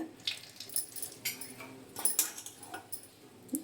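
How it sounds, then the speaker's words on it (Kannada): Boiled soya chunks squeezed by hand to wring out water for a soya curry, giving a run of close, wet squelching and dripping bursts in an irregular rhythm with no talking. "ಓಕೆ, ಇದರಲ್ಲಿರೋ ನೀರನ್ನ ಈ ಥರ ಹಿಂಡಿ ತೆಗಿಯೋಣ"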